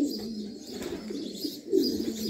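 Homing pigeons coo softly and repeatedly at close range after returning to their loft, low throaty calls rising and falling in a quiet setting.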